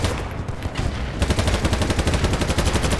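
Automatic weapon fire in the video game BattleBit, rapid sustained bursts of loud, close shots in a steady fast rhythm after a brief quieter lead-in, with no talk over it.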